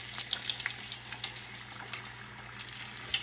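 Fried apple pies sizzling fast in hot peanut oil, a soft, continuous crackle with scattered sharp pops over a low hum, no talking.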